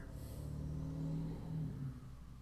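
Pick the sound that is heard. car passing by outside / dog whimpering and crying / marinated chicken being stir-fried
car passing by outside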